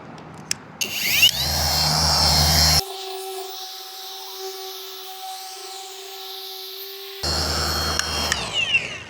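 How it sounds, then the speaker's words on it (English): A power polisher buffs polish across a car window, its steady motor whine holding alone through the middle, framed by rougher, louder pad-on-glass buffing noise at the start and end. "Let's get buffing."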